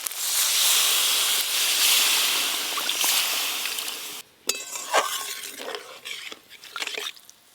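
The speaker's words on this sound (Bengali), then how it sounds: "মশলা থেকে তেল ছেড়ে গেছে, এবার জল দেব।" Water splashes into a pan of spice paste frying in oil for a Bengali hilsa-head and taro-greens curry, setting off a loud, steady hiss for several seconds, then a quieter stretch with scattered clinks and bubbling.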